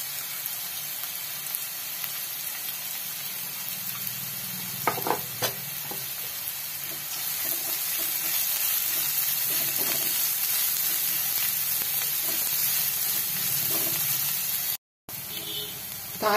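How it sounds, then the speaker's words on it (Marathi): Sliced onion frying lightly in oil in a pan, a steady soft sizzle and hiss with occasional stirring clicks and scrapes, a brief dropout near the end, and voice in the background at times. "तर मी कांदा कापून घेतलेला आहे, थोडासा टाकते याच्यात। हलकासा आपण याला फ्राय करायचा आहे"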